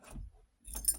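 A metal key scrapes and turns in the keyhole of an Ultraloq Latch 5 smart door lock, giving two brief, close metallic rattles separated by a short pause.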